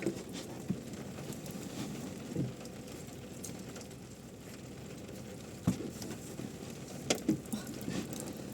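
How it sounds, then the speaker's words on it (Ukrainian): Steady soft patter of rain on a car windshield and mirrors, with a few louder drips and knocks now and then. "Вибралась, називається, от якраз тоді, коли дощ іде вже знову зеркала мокре."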